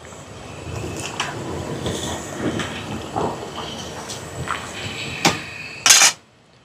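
Rice being stirred in a large cooking pot for an outdoor mass food offering: scattered scraping and clanking knocks of a utensil against the metal pot, ending in a sharp louder clang.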